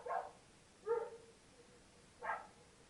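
A few separate dog barks, three in all, spaced irregularly across a quiet room, moderately close and fairly soft, with no talking.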